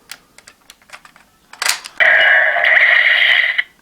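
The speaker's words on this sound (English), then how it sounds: "that sound means that it knows that battery's been put in" A GabuRevolver transformation toy from Henshin Juu gives a few small plastic clicks as a battery piece goes into its slot, followed by a loud, steady electronic chime of about a second and a half.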